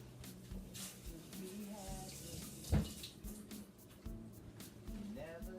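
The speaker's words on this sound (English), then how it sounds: "Rinse it off." Tap water runs and splashes over carrots being rinsed in a sink, a close, uneven gush with a sharper splash partway through and faint background voice.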